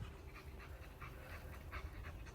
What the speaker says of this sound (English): I've got 2 dogs on board and it's time for a walk